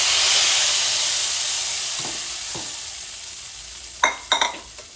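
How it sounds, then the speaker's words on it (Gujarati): A spiced tempering of cloves, cinnamon and pepper sizzles loudly and steadily in hot oil for wheat khichdo, close and continuous, with a few sharp clinks of a utensil near the end. "વઘાર આપણે એની અંદર ફ્રાય કરી"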